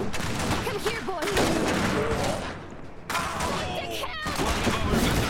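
Constant gunfire in the Iron Harvest game, a dense fusillade of rattling shots and bursts layered with battle noise, loud and continuous, with shouted voices over it.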